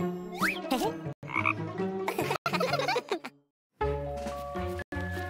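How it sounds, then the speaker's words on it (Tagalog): A frog croaking in a children's animated story, a series of cartoonish croaks in short bursts separated by brief silences, with bright musical and playful sound effects around them. "Haha! Isang palaka!"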